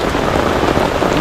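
Heavy, steady rain pours down beside the Bé River, a loud, dense, unbroken hiss of drops striking surfaces up close, with no voices.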